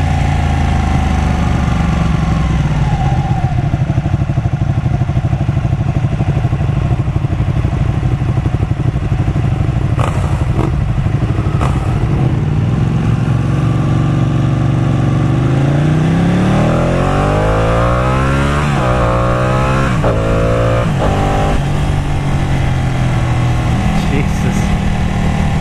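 A Ducati Panigale 899 sport motorcycle runs loud and close on a test ride, its engine droning and then climbing through repeated rising revs and gear changes, with a rider's voice now and then over the noise.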